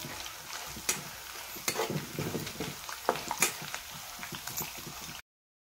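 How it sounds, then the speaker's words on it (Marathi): Mustard seeds hit hot oil in a pan while making kande pohe, giving a soft crackling sizzle with scattered sharp pops and stirring clinks, close and fairly quiet. "आपण आता याच्यात थोडीशी मोहरी सोडू"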